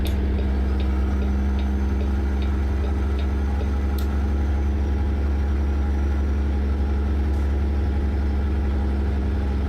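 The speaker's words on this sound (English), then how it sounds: "this one is the C15 engine and sound pack from Z-Mods." A truck idles with the Z-Mods C15 engine sound pack in American Truck Simulator, a steady deep rumble with faint, regular ticking on top and no talk.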